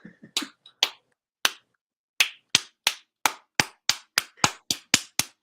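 Crisp finger snaps from a crowd in a room, starting sparse and irregular, then settling into a steady run of a dozen evenly spaced sharp snaps, clear and close with silence between them.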